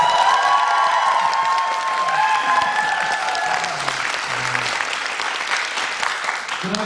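Concert hall audience at a tenor and baritone duo concert claps steadily and fairly loudly, with a few cheers, while singing or voices linger faintly beneath the applause.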